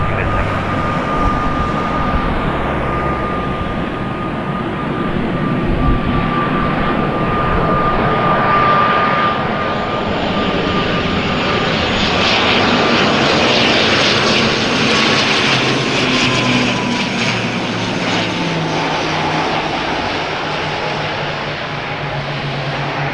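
An airplane lands at Madeira Airport with a loud, continuous engine roar and rushing air that shifts in pitch as it approaches and touches down, sustained throughout.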